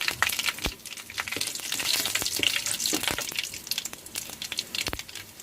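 Curry leaves crackle in hot oil with mustard seeds and chana dal for potato saagu, making a busy, fairly quiet hiss with scattered sharp pops and spits, close and unaccompanied by voices.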